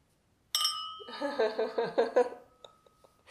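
Several glasses clink together in a quick run of bright, ringing taps that chime like a small bell, then fade out.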